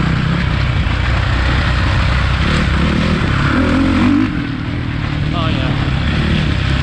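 Suzuki RMZ450 dirt bike engine roaring steadily while being ridden, loud and close throughout with a dense, continuous drone that dips briefly near the end, and a rider exclaiming once over it.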